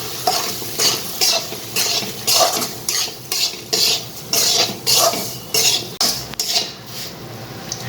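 Semolina roasting in ghee over a low flame is stirred with rhythmic, close scraping strokes against the pan, about one per second, under a soft frying hiss, with no voices.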